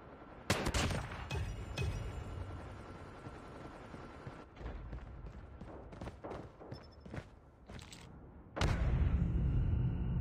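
Call of Duty Mobile gunfire crackles in rapid bursts, with sharp close shots early, a cluster of distinct single cracks midway and a heavy loud barrage swelling near the end.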